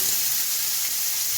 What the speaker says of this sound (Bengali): এবার আমি নারকেলগুলো ভেজে নেব